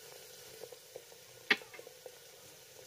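Two dried chillies and two bay leaves hit already-fried onions in a pan, giving a soft, low sizzle with a few light pops and one sharp crackle near the middle, close and fairly quiet.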